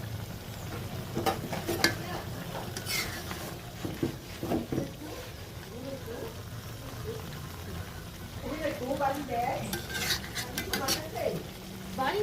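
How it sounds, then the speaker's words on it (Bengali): Lau shak, bottle gourd greens, cooked with puti fish in a home kitchen pan, stirred once with a utensil scraping and clattering against the pan over a steady low sizzle, with a few louder clinks near the end. "মধ্যে একবারই নাড়া দিয়ে দেব।"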